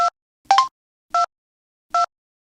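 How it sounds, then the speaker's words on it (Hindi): Four short, separate beeps sound as buttons are pressed on a mobile phone keypad. Each press gives a clean two-tone blip, evenly spaced and fairly loud in a quiet room. "ये मोबाइल है, इसमें तो बटन भी है। मैं दबा दूंगा इन्हें।"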